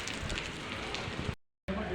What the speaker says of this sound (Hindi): अभी बारिश रुकती है तो चलेंगे।